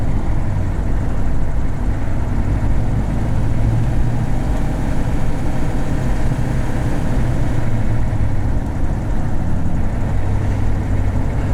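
A 2004 Hummer H1 diesel engine runs loud and steady for the whole stretch, a deep continuous low rumble with no voices over it.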